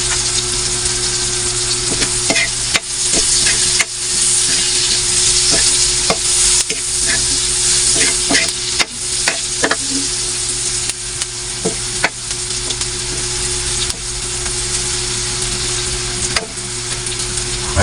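Onions sautéing in a hot frying pan, a steady loud sizzle running throughout with repeated scraping and clinking of a utensil stirring against the pan, no voices.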